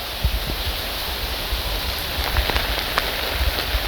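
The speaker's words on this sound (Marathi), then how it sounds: "पाऊस चालू झाला आहे परत, दिसतोय काय?" Steady monsoon rain hisses all around a village in Kankavli, with scattered raindrops tapping close by on a surface.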